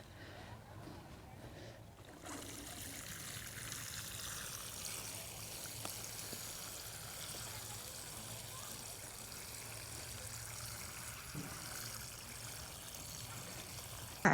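Water pours steadily onto garden soil at a stone house renovation in Portugal, a continuous close trickle and splash that runs alone for several seconds.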